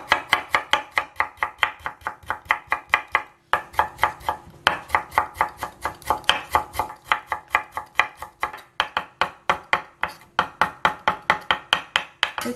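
Steady, rapid knife chops through carrot slices on a cutting board, crisp thuds repeating in a quick even rhythm with a brief pause, close and clear.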